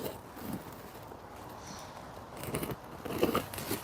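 Scissors snipping hair in a salon haircut, taking off about two centimetres at a time, heard as soft, close crisp cutting crunches repeated through the stretch with no talking.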